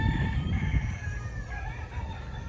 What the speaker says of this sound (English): Roosters crowing back and forth at each other.